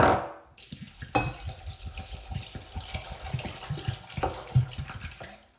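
Water from a tap pours and splashes in an uneven, bubbling rhythm, close by, starting with a sharp burst.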